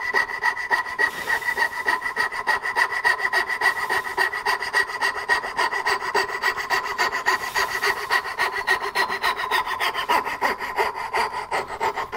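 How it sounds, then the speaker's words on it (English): A hand saw cuts through cherry wood for a drawer with quick, even back-and-forth rasping strokes, close and continuous with no voices. "Love the smell of cherry being sawn."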